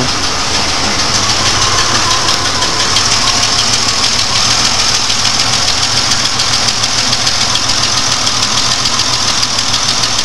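A GM 3.4L V6 idles roughly with a misfire on one cylinder, a loud close steady engine drone with a fast ticking clatter and uneven pulsing throughout, no talking.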